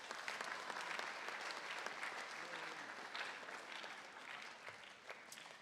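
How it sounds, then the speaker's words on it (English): Students and families clap at a 5th and 6th grade spring school concert, a dense, steady round of applause from a large crowd filling a hall, sustained and slowly thinning toward the end. "you guys can applaud for yourself"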